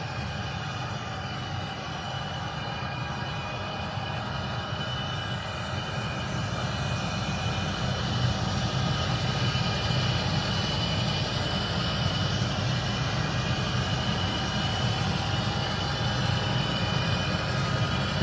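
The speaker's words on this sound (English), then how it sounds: "let me see as the train's going through here" A model train runs steadily along third-rail track, giving a continuous rumbling hum with a faint high whine, even and unbroken throughout, no voices.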